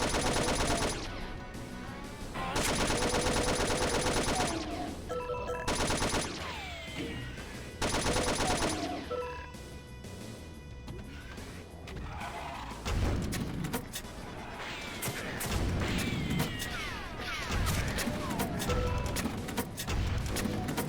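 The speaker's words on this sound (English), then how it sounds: "That chain gunner was annoying me" Gunfire, including a chaingunner enemy, rattles through a Doom mod game in dense bursts of rapid shots and booms, loud and nearly constant, with game music and effects mixed in.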